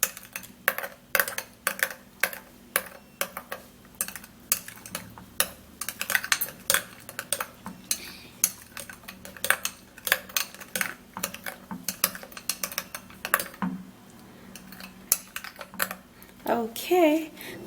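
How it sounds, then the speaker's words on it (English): Banana and rose water mixture being stirred in a bowl with a utensil, giving repeated sharp clicks and scrapes in a steady, irregular rhythm, close and fairly quiet, with a brief voice near the end. "I'm gonna be transferring that into the bowl, and then I would have to stir it up really good"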